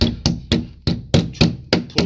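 Steady hammer blows strike a wooden crate, about four per second, sharp and close with short dull thuds.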